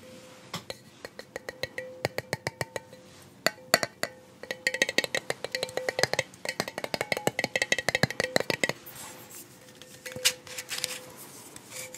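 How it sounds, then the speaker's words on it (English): Glass and metal objects clinking and tapping together as an ASMR trigger, with irregular bursts of sharp, close, bright clinks that grow busier in the middle. "glass sounds with some metal make for a pretty good trigger"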